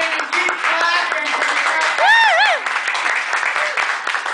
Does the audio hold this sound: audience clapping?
yes